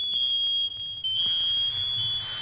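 A shrill smoke alarm beeps loudly and continuously, its high piercing tone steady with a short break, over faint background noise.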